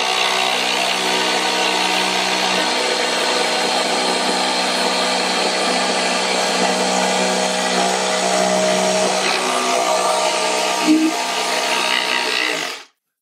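A Festool jigsaw saws through a board with a steady, loud buzzing whine that continues without a break for about twelve seconds and then cuts off abruptly as the tool is switched off, with no talking.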